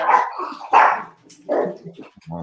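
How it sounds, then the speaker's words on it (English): A pet dog barks several times indoors in loud, close bursts, with a short gap between them, and a person speaks briefly afterward. "Sorry, that's my dog."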